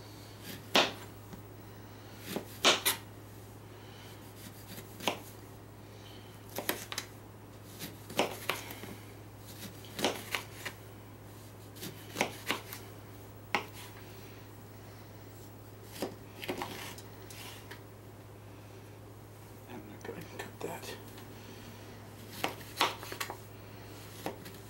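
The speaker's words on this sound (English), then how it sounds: "slice your lemons up" Sharp, irregular knife strokes slice lemons against a cutting board, faint and close, with uneven gaps between cuts over a steady low hum.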